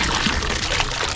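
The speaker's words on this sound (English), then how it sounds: "And we pour the fish" Fish tipped from a container into water outside Pattaya, Thailand make a continuous splashing, gushing pour at close range, fairly loud and without talk.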